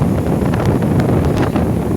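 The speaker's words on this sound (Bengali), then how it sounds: "দমকা ঝড়ো বাতাস" Loud, steady roar of strong stormy wind buffeting the microphone at night on the sea beach at Old Digha, with heavy rain, rushing gusts and no voices.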